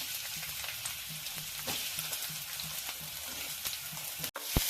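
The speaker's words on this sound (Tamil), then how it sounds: "இப்போ நம்ம வெங்காயம் வதக்கிட்டு இருக்கிறோம்." Two large chopped onions sauté in oil in a pan for a chicken bread roll filling. A loud, steady sizzle runs throughout with scattered crackles and a few stirring scrapes close by.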